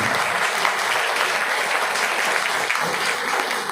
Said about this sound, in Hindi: अगर विश्वास करने वाले लोग ताली बजाकर परमेश्वर को महिमा कर सकते।